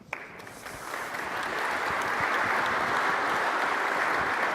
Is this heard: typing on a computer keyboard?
no